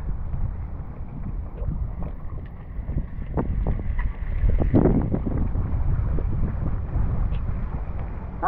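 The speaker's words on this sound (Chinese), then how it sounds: "好大风啊！" Strong gusts buffet the microphone on a small boat at sea off a rocky island coast, with a heavy low roar of wind and engine rumble that swells midway, plus scattered knocks and water noise.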